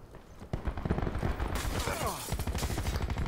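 An SDM marksman rifle fires in Black Ops 4, a quick run of sharp, punchy shots that starts after a brief lull and continues steadily, with a voice talking beneath the gunfire.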